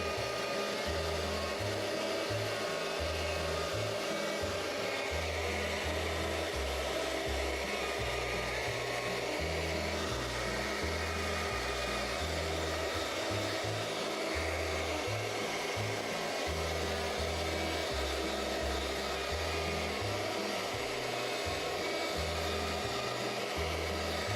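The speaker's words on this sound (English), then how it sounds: "used a hair dryer on a low setting to keep him warm" A hair dryer on its low setting runs continuously with a steady whooshing hum, moderately quiet throughout with no other sounds.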